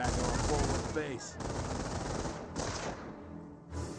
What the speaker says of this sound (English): Rifleman Squad does get suppressed by the MG42 inside the garrison.